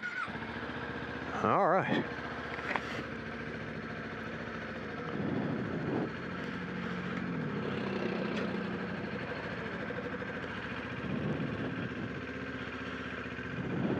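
A Kawasaki Z400 motorcycle engine starts up and settles into a quiet, steady idle, with a brief spoken word near the start.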